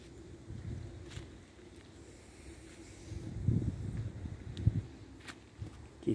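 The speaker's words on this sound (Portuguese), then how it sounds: "É perigoso agora nesse dia de vento assim, é muito perigoso." Gusty wind blows outdoors among trees and giant bromeliads on a windy day, a low steady rumble that swells into louder buffeting gusts in the second half, with no voices.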